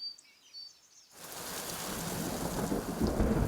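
A heavy summer thunderstorm breaks over the Putorana Plateau, with faint birdsong giving way to a loud onrush of pouring rain and rumbling thunder.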